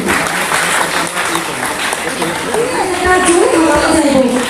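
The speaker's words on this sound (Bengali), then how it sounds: "Please give a big round of clap for him." An audience claps steadily for an honoured guest at a Minaplus Trademart gathering, dense applause that swells toward the end while a voice talks over it.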